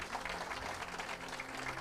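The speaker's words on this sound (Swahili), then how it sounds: "Nataka tupigie Ken makofi mazuri." Steady, dense clapping from a crowd, fairly loud and sustained throughout with no pauses.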